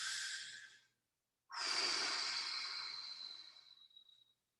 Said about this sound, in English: Big, deep exhales.